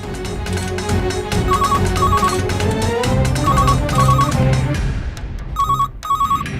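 A phone rings in repeated short electronic bursts, paired chirps recurring at regular intervals over a bed of dramatic background music, growing more prominent toward the end.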